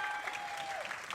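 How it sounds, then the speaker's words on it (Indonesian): An audience claps at a Jakarta word-game quiz show, a brief burst of full applause under a sustained whistle-like tone. "Tepuk tangan lu dong."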